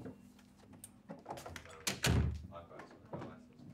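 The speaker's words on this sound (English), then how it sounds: "Right, I'm going to close the door." A door swung shut in a room at a vintage circus gathering, landing as one solid thunk near the middle, with people chatting around it before and after.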